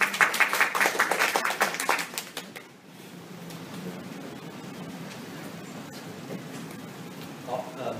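An audience at a forum on Taiwan's risk society claps to welcome a speaker, dense applause for about two seconds that fades into quiet room noise with faint talk.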